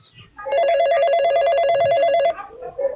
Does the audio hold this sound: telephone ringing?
yes